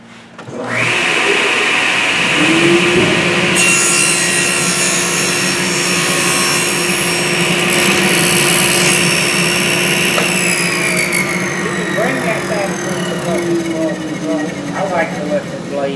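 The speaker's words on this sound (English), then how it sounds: "we're going to cut it too big in the beginning" A table saw with a tenon jig cuts a wooden tenon, the blade whining loudly and steadily as it bites through the wood and then holds a sustained high pitch through most of the stretch.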